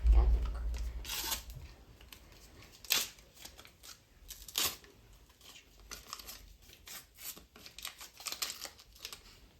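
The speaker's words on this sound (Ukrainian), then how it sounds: "відкриваємо наш пакетик" A plastic packet is opened by hand, with faint crinkling, rustling and tearing in scattered bursts, quiet and close throughout.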